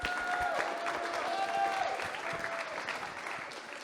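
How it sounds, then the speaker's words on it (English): A crowd applauds both middle school teams after a hard-fought finals match, a steady wash of clapping that fades slightly toward the end. "Can we give a round of applause to both teams"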